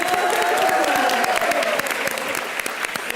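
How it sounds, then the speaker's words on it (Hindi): A television comedy show audience gives loud, dense applause for Sofia, steady at first and thinning slightly toward the end, with crowd noise mixed in. "सोफिया के लिए जोरदार तालियां"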